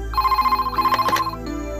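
A telephone ringing on an outgoing call, a near electronic ringback tone pulsing in short bursts for over a second before cutting off, with a brief background clatter.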